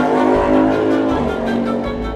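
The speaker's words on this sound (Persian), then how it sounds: "موتورسایکل، موتورسایکل. این یک موتورسایکل است." A motorcycle engine runs loud and close with a steady, throaty drone and slight rises in pitch, heard on its own without any talk.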